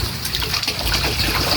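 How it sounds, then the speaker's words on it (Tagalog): A small amount of water is poured close by, giving a steady splashing trickle that fills the whole moment without pause. "Lagyan po ni Papa ng konting tubig."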